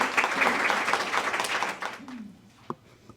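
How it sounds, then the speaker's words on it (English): Audience applause at a women's Toastmasters club meeting, a warm burst of many hands that fades within a couple of seconds, followed by a voice and a lone tap. "Can we give her a round of applause?"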